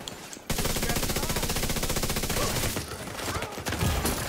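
Rapid automatic fire from a FAMAS assault rifle in the shooter game The Division 2, a sustained dense burst of evenly spaced shots that runs for several seconds, loud and close, then thins out near the end.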